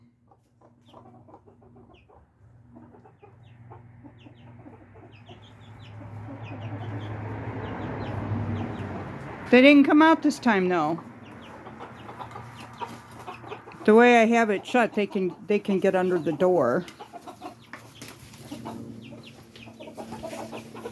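Silkie chickens in a small flock with a new baby chick cluck softly in a coop, low continuous murmuring under a person talking nearby.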